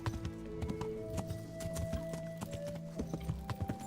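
Steady clip-clop of horse hooves with a brief whinny in the video game Kingdom Come: Deliverance, layered over game music and ambient tones; rhythmic and fairly close.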